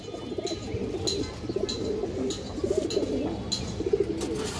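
Pigeons of a fancy breed, including a lively silver hen, coo repeatedly in short rhythmic phrases, close and moderately loud against a low background hum.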